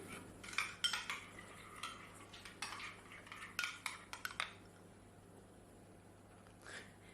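A spoon stirs a thick mixture in a bowl for a golden crunchy scramble, making quick close clinks and scrapes for several seconds before going quiet, with no talking.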